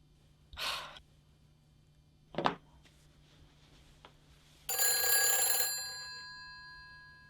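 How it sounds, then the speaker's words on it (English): A person breathing, two separate breathy exhales a couple of seconds apart and a faint click, followed by a louder tonal ringing burst that fades out; no words spoken. "Come on, I can hear you breathing."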